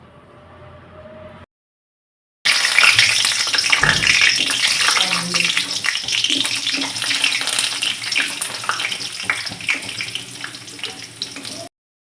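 Chopped tomatoes are dropped into hot oil in a kadhai for a chutney. After a faint lead-in and a brief gap, a loud, close, crackling sizzle bursts in and carries on steadily, easing slightly before stopping.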